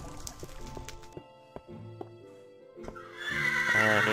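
Horses in the Minecraft video game whinny and snort in short bursts, with clip-clopping steps and a watery splash at the end, fairly quiet and close.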